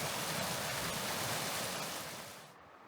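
The Cascade River in Banff rushes beside a backcountry trail as a loud, steady wash of water, fading toward the end.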